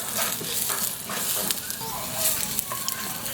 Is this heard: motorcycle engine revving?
no